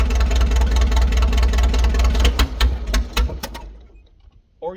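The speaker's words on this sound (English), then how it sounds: "the tractor is misfiring. I think it's only running on 3 cylinders, and when you rev it up, it just stumbles and misses" A 1940 Farmall H tractor engine with an M&W 9-speed, running on three cylinders, chugs loudly and unevenly, stumbling and missing under revving before it cuts off into near silence.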